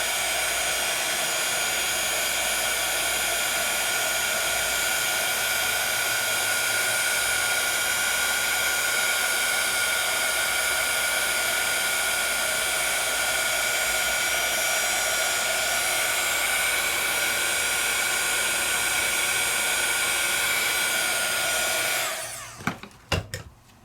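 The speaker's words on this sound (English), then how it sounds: "That means I didn't heat it enough there, so I just go back in and heat it till it turns." Electric heat tool blowing steadily over embossing ink on a stencil layering project, a continuous close whirring hiss that holds for about 22 seconds before shutting off with a few clicks.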